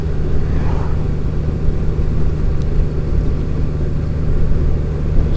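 A 2018 Honda Goldwing DCT motorcycle riding toward a freeway, its deep engine rumble steady and loud under continuous wind and road noise, no voices.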